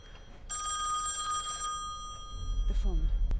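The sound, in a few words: telephone ringing in the video game Song of Horror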